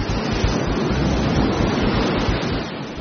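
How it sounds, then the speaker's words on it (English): Large ocean waves crash and surge in a steady, loud wash of surf that fills the whole clip, with wind noise mixed in. "Water that turns to waves. Waves that build into monsters."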